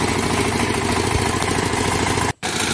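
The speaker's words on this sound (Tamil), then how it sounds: "இப்போ நம்ம பார்க்குற வண்டி 21 ஹெச்பி கவி அக்ரோ பவர் டில்லர் இன்ஜின்." A 21 HP Kavi Agro power tiller engine runs steadily and loudly up close, a dense mechanical clatter with a constant drone, cut by one brief dropout near the end before it resumes.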